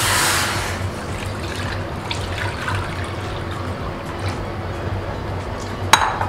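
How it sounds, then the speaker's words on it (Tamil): Milk pours into a pot set on a stove for jackfruit seed payasam, a steady liquid wash with a faint clink of metal near the end, close and moderately loud with no talking. "நான் காய்ச்சி ஆற வச்சுன பால் இதில் சேர்த்துக்கலாம்"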